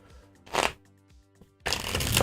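Tarot cards being shuffled close up, a short riffling burst, then quiet handling, then a longer continuous shuffling rush at the end.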